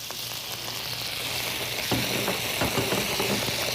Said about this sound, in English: I'm going to add my onions. With a little bit of oil, teaspoon or so.